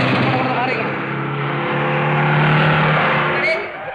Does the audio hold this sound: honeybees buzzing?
no